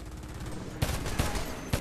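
Rapid bursts of gunfire in the video game Homefront crackle over a muffled background, with a few sharper shots standing out near the end.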